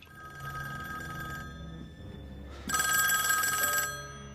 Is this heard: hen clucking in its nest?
no